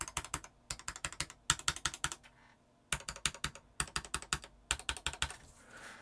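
Typing on an Epomaker EP84 mechanical keyboard fitted with Gateron Black switches, with a dense run of close, loud clacking keystrokes that come in quick bursts and are broken by short pauses. No voice is heard.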